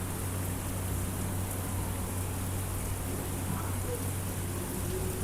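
Steady monsoon rain hisses evenly throughout, a constant soft wash of falling water with no pauses.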